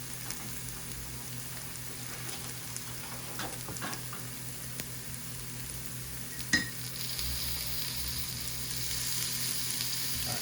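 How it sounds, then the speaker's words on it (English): Butter melts in a pan for a cheese omelette, a faint, steady crackling sizzle with small pops, growing slightly fuller toward the end with no talking. "So let's get that butter melted."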